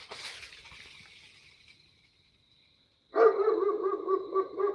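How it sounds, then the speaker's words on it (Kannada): A dog barks repeatedly at night near a cremation ground, a run of close, loud, rapid barks that bursts in after a faint stretch and near silence. "ಈ ನಾಯಿ ಸೌಂಡಿಂದ"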